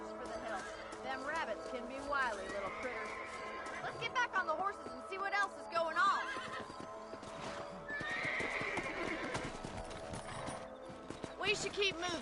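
Horses clip-clopping and whinnying in the western video game Red Dead Redemption, steady hoof beats running throughout with a neigh now and then, joined by voices talking over the ride.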